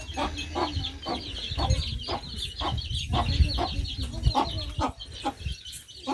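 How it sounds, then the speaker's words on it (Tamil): Hens clucking with small chicks peeping, a busy close-up chorus of short repeated calls over low rustling. "கோழி வந்து குஞ்சு பறிச்சிருக்கு,"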